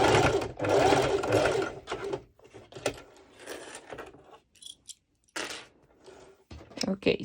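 A sewing machine stitching mesh lycra for pole dance shorts runs in fast, dense bursts, loud and close, then breaks into shorter starts and stops with small handling clicks between runs.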